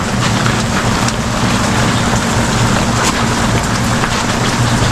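Heavy rain falls steadily in a dense, loud, continuous wash of drops hitting surfaces close by, with no talk.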